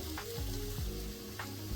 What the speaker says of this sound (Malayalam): നന്നായി സോട്ട് ചെയ്യാം.